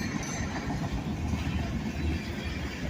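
A freight train with a string of empty centerbeam flatcars rolls past, making a steady, even rumble and wheel noise throughout with no breaks.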